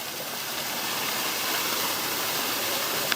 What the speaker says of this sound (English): so this waterfall's in your background there